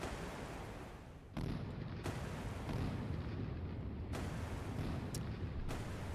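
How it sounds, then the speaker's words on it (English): Artillery barrage in a naval combat video game set during Operation Praying Mantis 1988, heard as a continuous rumbling roar of repeated booms with sharp onsets punctuating a steady loud low-frequency wash. "These shots are much more accurate than the last barrage."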